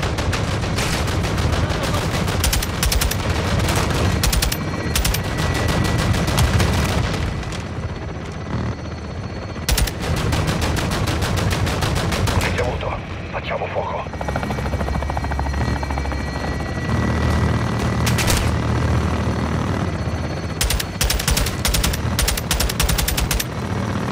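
Dense bursts of rapid automatic gunfire in a Call of Duty: Modern Warfare II battle, loud and close, repeating in long volleys over a steady helicopter rotor roar, with a brief quieter lull midway.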